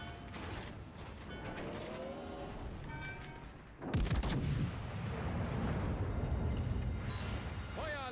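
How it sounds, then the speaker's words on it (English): A Yamato battleship fires its heavy guns in the naval game World of Warships Legends, with a single deep booming salvo midway that rolls into sustained rumble over mechanical creaks and clanks. "Yamato shooting Ichi"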